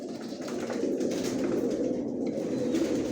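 Many pigeons, several of them moulting, cooing together in a loft on the floor of a building, a dense continuous murmur of low coos.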